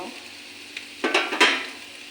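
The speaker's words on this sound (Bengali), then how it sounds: "ভাজা করা সুজিটা আমি দিয়ে দেব" Fried semolina is tipped into a pan and stirred for a semolina pulao, with a soft sizzle and a few scraping, clattering strokes of the spoon against the pan near the end.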